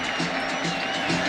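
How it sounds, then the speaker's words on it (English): A stadium crowd at a Texas Tech football game in Lubbock keeps up a broad, continuous roar of cheering and applause. A commentator talks over the crowd noise. "And a great crowd here in Lubbock as well."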